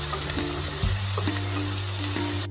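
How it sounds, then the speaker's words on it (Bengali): Onions frying in a pan, with ginger, garlic and green chili paste added for a Bengali potol chingri (pointed gourd and prawn) curry, giving a steady close sizzle and a few stirring scrapes, with no voices. "পেঁয়াজ একটুখানি ভেজে নেওয়ার পর দেব আমি আদা রসুন আর কাঁচা লঙ্কা বাটা দিয়ে ভালো করে কষিয়ে নেব"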